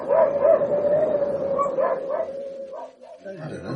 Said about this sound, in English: You should tell the Huskies, Chief. They've been going on bloody non-stop.